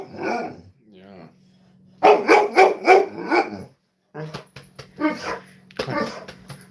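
A female dog barks in a run of sharp bursts and whimpers between them, close by. A person talks softly over parts of it.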